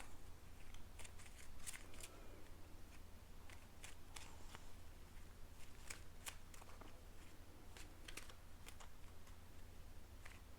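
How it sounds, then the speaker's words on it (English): Playing cards being shuffled repeatedly, with crisp riffling bursts and soft flicks at an irregular pace over a steady low hum, close and fairly quiet. "while I shuffle these cards"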